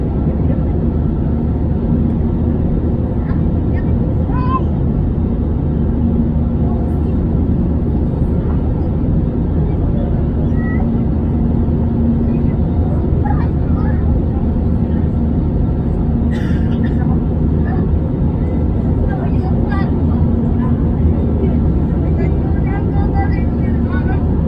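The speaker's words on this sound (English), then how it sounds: "because of these two CFMI engines that are attached to the wings" Inside an Easyjet Airbus A320 cabin in flight, the CFM wing-mounted jet engines give a steady, loud broadband roar and low hum that stays constant throughout, with occasional faint cabin clicks.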